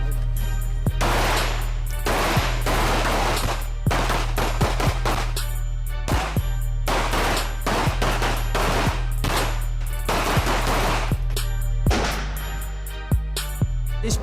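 Police shooting training with a 9mm pistol and rifles, loud close gunfire in rapid bursts and clusters of shots with brief pauses between volleys, continuing throughout.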